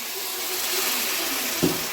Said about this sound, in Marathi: त्यानंतर मित्रांनो थोडंसं आपण पाणी टाकणार आहोत